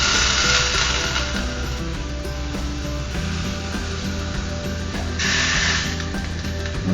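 Pork chops sizzling on grill grates over a stovetop, a steady, loud broadband hiss and crackle running continuously with a brief surge in intensity near the end, no talking.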